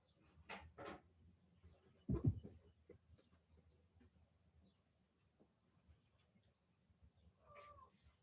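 A cat gives a faint meow near the end, with soft thumps and handling noises earlier in a quiet room.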